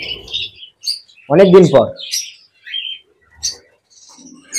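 Budgerigars, lovebirds and cockatiels in a bird room chirp and squawk in scattered high, short calls, with a brief spoken remark in the middle and quiet gaps between the calls.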